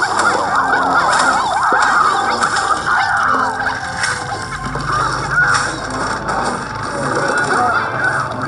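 A chicken squawks and clucks in a mobile video game, loud and nearly continuous over busy game music and sound effects, with no talking.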